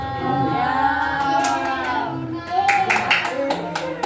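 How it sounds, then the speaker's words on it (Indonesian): Scattered hand claps from a small group of children at a read-aloud session ring out over lively children's chatter and voices, the clapping brief and uneven rather than a full ovation. "Yeay, tepuk tangan dulu."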